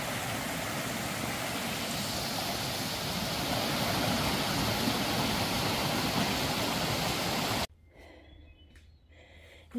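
Bromley Brook on the Appalachian Trail near Bromley Mountain rushes steadily in a loud, close wash of flowing water for several seconds before cutting abruptly to quieter outdoor sound with faint knocks.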